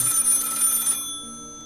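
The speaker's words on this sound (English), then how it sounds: "Asked Brother as the living room phone rang." A living room telephone rings with a bright, sustained metallic bell trill for about a second, then the ringing stops and a fading tone lingers.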